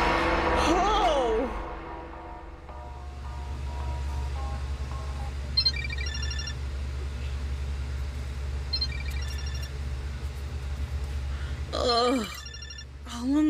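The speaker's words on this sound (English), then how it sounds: "It's my phone." A phone ringing in the horror game The Karaoke: a synthetic ringtone chirps in short bursts several times over a low droning ambience, with gasps and voice sounds near the start and end.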